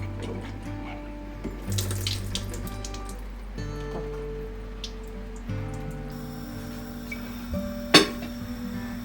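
Tap water runs steadily into a jar of fermenting cucumbers as they are rinsed, a close continuous splashing flow with shifting pitch and one sharp knock near the end.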